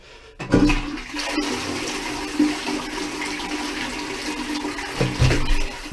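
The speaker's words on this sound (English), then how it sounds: "So the only thing left to do now is give it a test flush." A newly installed toilet cistern gets a test flush: a sharp release, then water rushing and swirling loudly and close for several seconds, ending with a second surge.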